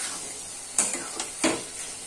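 Torn green chillies dropped into a sizzling fish curry of loitta fish, a steady hiss of frying broken by three sharp clattering touches of a spoon or pan, close and with no voices.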